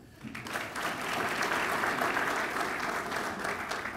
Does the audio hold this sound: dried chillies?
no